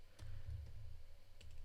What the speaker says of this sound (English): let me just finish typing here